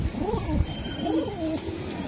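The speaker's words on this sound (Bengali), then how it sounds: "এই যে দুইটা কবুতর" Two young racer pigeons cooing close by in soft, rolling bursts, with low throaty warbles repeating through the moment.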